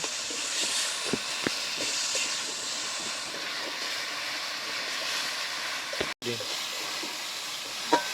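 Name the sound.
frying spice masala for egg tadka in a pan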